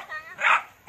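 A small white dog gives a couple of short, high yips and barks at a moderate distance, with brief gaps between them.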